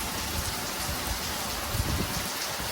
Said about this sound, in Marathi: बघा पाऊस बघा किती जोरात चालू आहे आज